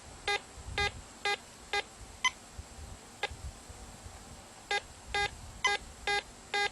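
A Fisher F70 metal detector in slow mode gives a series of short, sharp electronic beeps, some in quick pairs and others isolated, over faint background noise, with no talking.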